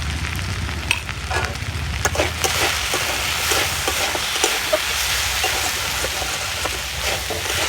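Chilli powder, coriander powder and salt being stir-fried in a pan, a steady loud sizzle with rhythmic scraping of the spatula throughout, no voices.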